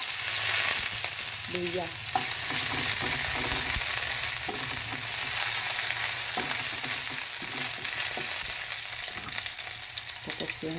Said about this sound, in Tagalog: Igisa lang ng konti para lumabas yung lasa.